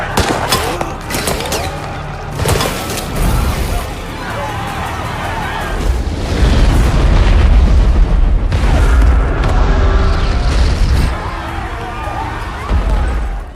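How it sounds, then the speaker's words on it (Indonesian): A film scene in which a plane explodes after a fuel leak, producing loud booms and rumbling blasts with crackling debris, mixed with music and dialogue, building into a sustained roar. "Melihat ledakan besar itu"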